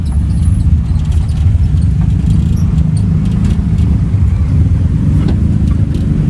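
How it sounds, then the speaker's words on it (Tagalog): Heavy road traffic in Consolacion, where a road is under repair: a loud, close, continuous rumble of cars and engines moving slowly, with faint metallic clinks over it and no talk. "dito sa Konsolasyon, napaka-traffic talaga"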